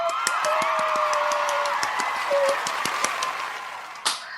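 A small studio audience of a faith-based talk show claps and cheers together, a steady wash of claps with whoops rising through, then a louder burst near the end.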